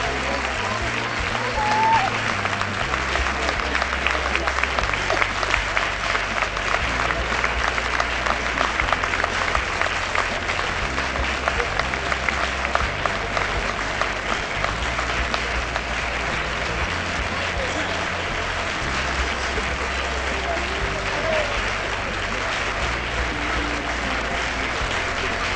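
Audience applause at an award ceremony, a steady wash of clapping that runs the whole time, loud and close, with the crowd's cheering folded in.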